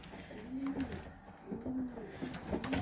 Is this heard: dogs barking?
no